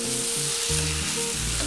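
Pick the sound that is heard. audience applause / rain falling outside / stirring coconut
stirring coconut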